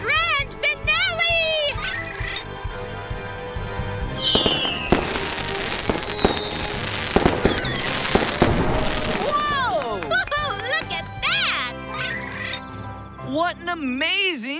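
Fireworks grand finale bursting in rapid, loud succession with crackling pops and whistling trails throughout, while voices and music play over the show.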